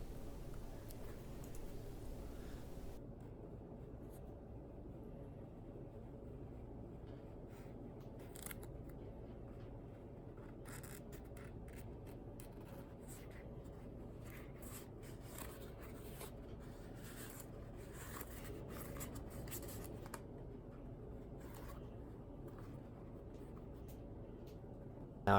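Scissors cut out a mask trim piece in a quiet room, giving soft, repeated snips and paper-like rustles that run steadily and faintly throughout.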